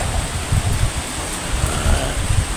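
Light rain and wind in Naga City during a super typhoon make a steady, moderately loud wash of hiss and low rumbling gusts, with no voices.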